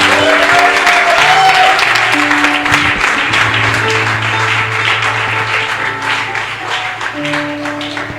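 Full, loud applause and acclamation from a congregation at a prophetic breakthrough worship service, continuous clapping blended with cheering voices and tonal sounds, easing slightly toward the end.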